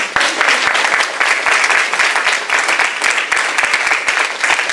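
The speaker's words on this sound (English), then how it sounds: "Give them a round of applause" A forum audience gives the panelists of a green jobs discussion in San Francisco a loud, sustained round of applause, many hands clapping densely and close by without a break.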